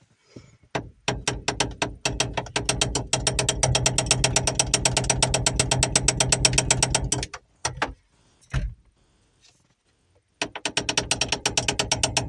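Metal on metal: a ratchet's back end rapidly taps a new ignition key in its switch, making loud, fast, evenly spaced clicks in long runs. A few short pauses break the runs, and a stretch of near silence comes before the tapping resumes.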